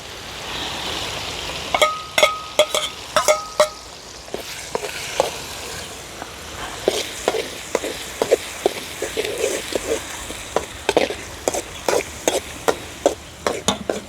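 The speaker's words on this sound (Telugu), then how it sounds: "అల్లం తెల్లగడ్డ పేస్ట్ వేసుకుంటున్నాం" Ginger garlic paste frying with tomatoes and green chillies sizzles steadily in a pan, while sharp ticks and clacks of a spoon against the pan come in irregular bursts, near and fairly loud.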